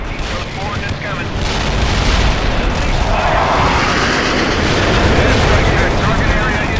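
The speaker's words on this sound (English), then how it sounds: "Mortar strike hit for full effect" Mortar strike explosions roar through a World in Conflict battle, a continuous loud, rumbling barrage of booms and debris without clear gaps, with a voice speaking underneath.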